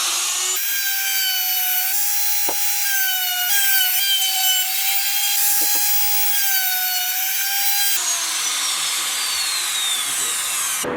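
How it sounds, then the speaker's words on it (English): A handheld router rounds over the edges of a wooden table leg for an outfeed table and workbench, its high motor whine loud and steady with shifting pitch as the bit bites into the wood, no voices. "What I like to do, router those edges."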